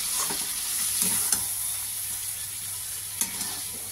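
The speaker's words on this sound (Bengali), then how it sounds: "আরও কষি একটুখানি" Chicken curry masala sautéed in a pan with a continuous close hiss and sizzle, broken by a few sharp scraping clicks as it is stirred.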